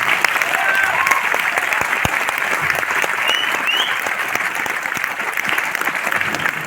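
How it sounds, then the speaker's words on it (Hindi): An audience at a success celebration event breaks into vigorous, continuous clapping, a dense close patter of many hands holding steady with a few louder individual claps. "तो तालियां बजाया करिए।"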